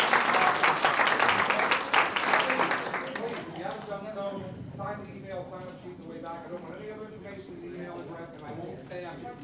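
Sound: audience applause at end of meeting

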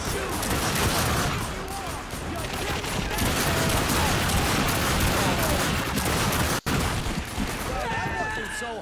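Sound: gunfire in the video game The Darkness 2

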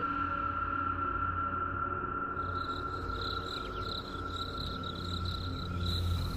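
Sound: crickets chirping at night

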